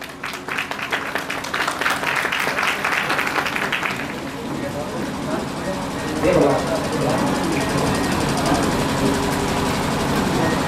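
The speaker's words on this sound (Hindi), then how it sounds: "तो मैं जोरदार तालियों के साथ इनका स्वागत करवाना चाहूंगा" An indoor training-meeting audience bursts into steady, dense applause that carries on for several seconds, continuous and fairly loud before settling into a lower rumble.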